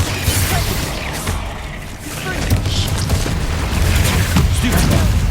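Bombarda spell explosions in the video game Hogwarts Legacy on PS5, loud booming blasts and crashing bursts that repeat over several seconds.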